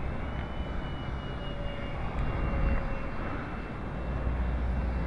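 Distant whooshing engine drone of a Freewing MiG-15 RC jet in flight, a steady, moderately faint hum that swells slightly midway, with no speech.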